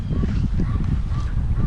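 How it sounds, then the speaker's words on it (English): Ducks calling outdoors, a few short honking quacks repeated at a moderate distance over a low background rumble. "You're looking at the ducks."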